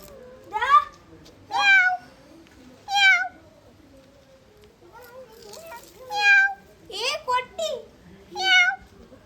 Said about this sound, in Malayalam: പാല് കുടിക്കുന്നുണ്ടാ പൂച്ച